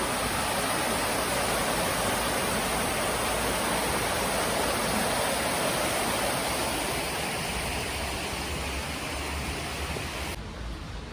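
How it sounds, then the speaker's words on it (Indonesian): Small river in Germany rushing steadily, a dense, loud, unbroken roar of flowing water that holds constant for the whole stretch with no voices over it. "sungai kecil ini cukup deras juga ya"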